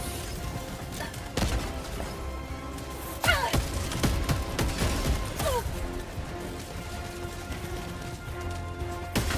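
Grenade detonation amid gunfire in the video game Helldivers 2, with sharp bursts and crashes over a dense, busy battle din, loud and close, repeated impacts scattered through the chaos.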